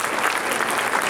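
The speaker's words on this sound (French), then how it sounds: "vous pouvez applaudir le conférencier" An audience at a Haitian pastors' league gathering in Central Florida claps for a speaker, a dense, steady round of applause from a sizable crowd, close and loud throughout.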